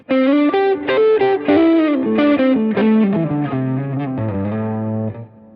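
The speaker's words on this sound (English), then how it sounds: "It's also very handy to flick that compressor sound." An electric guitar through a compressor pedal plays a short phrase of sustained, evenly squeezed notes with a smooth, slightly chorused tone, ending in a held low note that fades.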